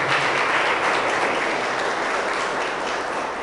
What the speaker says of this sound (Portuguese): E quem crê, dê um forte aplauso a Jesus.